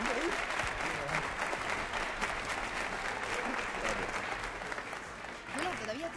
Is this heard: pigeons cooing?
no